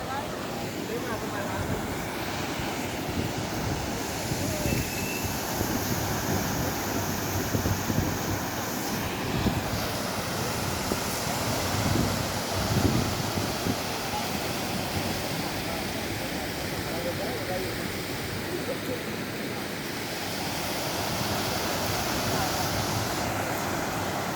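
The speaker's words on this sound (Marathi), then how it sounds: "आम्ही आत्ता आलोय नदीला आणि नदीचं पाणी वाढलंय, पूर आलाय" Constant broad roar of the flooded Panchaganga River rushing, with gusts of wind across the microphone and faint voices now and then in the background.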